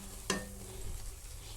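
Gongura leaves stir-fry on low heat in a pan for an Andhra pickle: one sharp spoon scrape, then only a faint, low sizzle.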